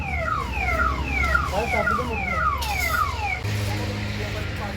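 An ambulance siren wails nearby in repeated falling sweeps, shifting to a steadier tone toward the end, with faint background voices.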